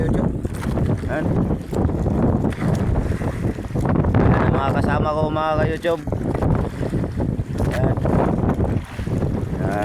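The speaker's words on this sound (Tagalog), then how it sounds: "Lakas yung hangin." Strong wind buffets the microphone aboard a small fishing boat out at sea off Lucky Beach, a constant rough roar with gusting surges. Someone talks over it.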